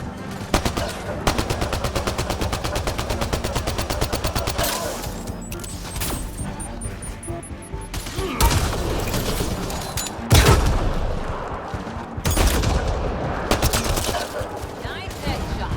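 Gunfire in Mass Effect Andromeda: rapid automatic bursts and single loud shots, with a few heavy booms, in a close and busy firefight under occasional voices.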